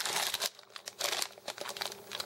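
Crinkling of a plastic candy package of Trolli Extreme Sour Bites chewy candy, close and loud, with irregular rustling bursts handled alone without talk.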